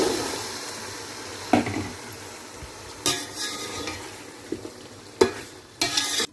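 Chickpeas stirred into a spiced masala with turmeric, frying in a pan for chana pulao: a soft steady sizzle broken by several sharp scraping stirs of a spoon against the pan.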